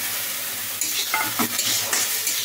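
Grated garlic and ginger frying in hot oil, a dense continuous sizzle with a few brief spatula scrapes and stirring knocks, close and fairly loud, with no voices.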